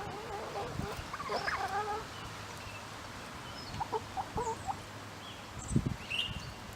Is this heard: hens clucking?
yes